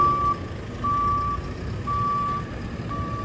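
A lorry sounds its reversing alarm while being loaded: four evenly spaced electronic beeps over a low engine rumble and outdoor yard noise, moderately near.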